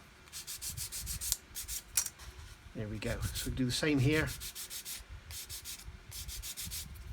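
Sandpaper rubs the trailing edge of a 1/72 Airfix Vulcan plastic model kit wing in steady repeated scratchy strokes, close up, with a voice speaking briefly midway.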